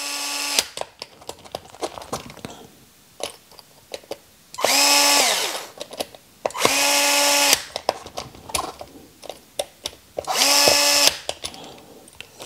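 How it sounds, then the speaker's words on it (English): A power drill tightens the wheel bolts on custom all-aluminum dually wheels for a Ford F450, running in three sustained whirring bursts with a pitch that dips and rises, separated by quieter gaps of clicks and handling noise. "clutch set on one on my drill so that I don't over tighten"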